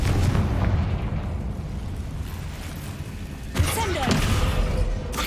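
A Confringo fire spell bursting in Hogwarts Legacy, a rumbling boom followed by a sharper crackling blast near the end.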